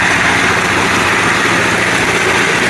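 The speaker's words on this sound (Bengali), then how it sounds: "এই মোটরের সাহায্যে এই পুরো মেশিন এটা চলে" Electric motor driving a livestock feed mixing machine for cattle feed runs loud and close, a continuous steady drone with no breaks and no voices.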